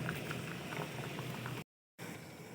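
Pot of potatoes boiling with salt, vinegar, sugar and garlic for a homemade sauce: a steady bubbling, gurgling simmer close by, broken by one brief silent gap.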